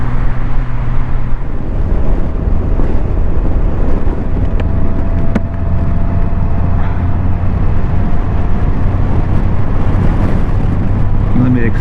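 Steady highway ride on a motorcycle across the Texas panhandle, a continuous low engine drone mixed with rushing wind noise, constant and loud throughout.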